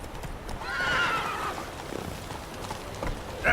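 Roach, a horse in The Witcher 3 video game, whinnies loudly with a rising neigh in the near foreground, while brief hoof clip-clops come in behind it and a second short whinny cuts in at the end.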